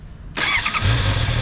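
A Honda CBR650R motorcycle engine cranks and catches abruptly, then settles into a steady low rumble, close by, with no talking.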